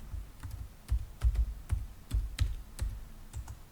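Typing on a computer keyboard, with a run of soft, close key clicks and thumps at an uneven pace, quiet and unaccompanied by speech.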